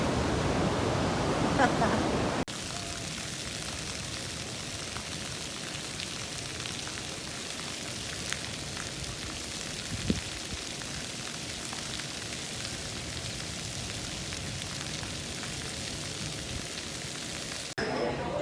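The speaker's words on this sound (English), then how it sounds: "we're sitting up here, watching the waves" Ocean waves wash steadily near the coast on the way to St Augustine, Florida, a continuous broadband roar that holds an even level for most of the stretch, with a brief louder rush and a few voices at the very start and end.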